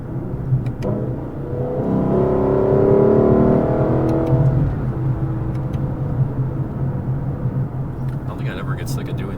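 A Lexus LC 500 engine swells into a loud, rising acceleration roar that peaks midway and then settles into a lower rumble, heard from inside the car with a voice talking over it.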